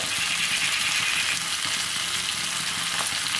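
Dried fish (karuvadu) frying in a pan, a steady, dense sizzle that stays even and continuous throughout, with no talking over it.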